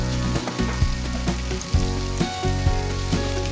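Meat browning in a hot pan, a steady loud sizzle and crackle with occasional sharper pops, close up and without talk.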